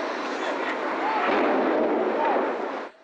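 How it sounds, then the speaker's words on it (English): A loud, sustained roaring blast of an explosion sound effect, representing a passenger jet crashing into the World Trade Center tower, rumbling steadily for about three seconds before cutting off abruptly. "He heard a loud explosion."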